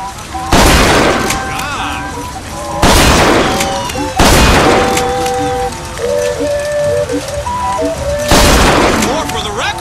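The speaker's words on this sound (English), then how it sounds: "it's kind of hard to miss at this range because you have a shotgun" Shotgun blasts in the Bioshock Infinite video game, four loud booming shots spaced a couple of seconds apart, each with a rattling tail, over game music and a talking voice.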